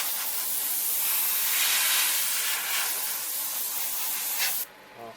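A sustained burst of compressed air blowing dust off a model kit hisses steadily up close for several seconds, then cuts off abruptly.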